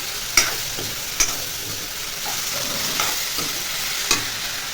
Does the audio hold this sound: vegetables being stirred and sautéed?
yes